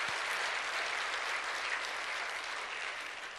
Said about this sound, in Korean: 우리를 위해서 한번 하나님께 우리 박수 한번 하겠습니다.